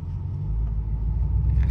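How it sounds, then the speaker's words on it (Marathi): A car rumbles close by on a street near a temple, a low steady engine drone with a slight swell in level and no voices. "समोर अक्षयची गाडी आहे"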